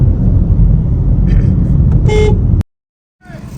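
A Daewoo company bus approaches on a road at night, with a loud, close engine rumble and a brief horn toot before the sound cuts out abruptly, then returns faintly.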